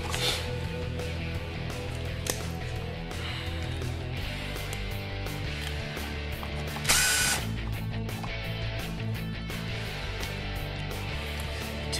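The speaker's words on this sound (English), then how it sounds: "Two screws go in." Screws being driven to mount a dimmer switch into a wall junction box: a steady mechanical ratcheting whir running throughout, with a brief brighter scrape partway through, close and moderately loud with no talking.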